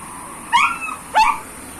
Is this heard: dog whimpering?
yes